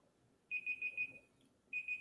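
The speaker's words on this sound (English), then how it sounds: "Beep, beep, beep." An electronic timer beeps during a sports trivia quiz: a quick run of four sharp, high-pitched beeps, a short pause, then two more, all close and clear over a quiet background.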